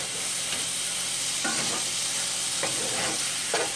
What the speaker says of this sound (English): And I get going and I stir.